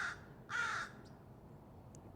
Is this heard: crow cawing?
yes